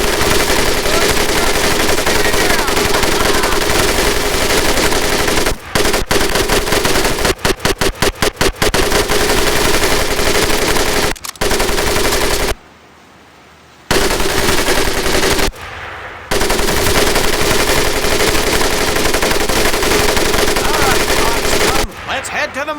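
An M1919A4 .30 caliber machine gun blazes away in the video game Medal of Honor Pacific Assault. Long, loud, continuous bursts are broken by a few short rapid stutters and brief silent pauses, with faint speech in the background.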